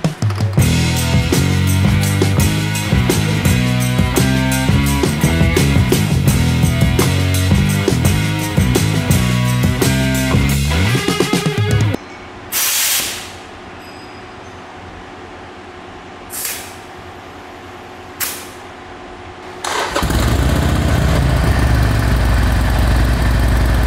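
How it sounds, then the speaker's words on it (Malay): A Harley-Davidson Iron 883 V-twin rumbling loudly and steadily after an oil and filter service, then cutting out, followed by a few brief clicks and a quiet pause before the engine fires back up to a low idle. "Now I have to start the bike"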